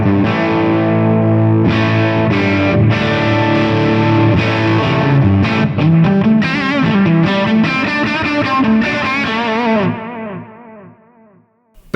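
Electric guitar played through a Fractal FM9 on its rhythm channel with the graphic EQ off, loud distorted chords and riffs with chorus-like shimmer, ringing steadily before fading out at the end.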